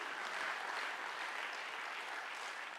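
Lecture audience applauding steadily in a hall, a dense, even wash of many hands clapping at moderate distance, fairly faint and sustained throughout with no voices over it.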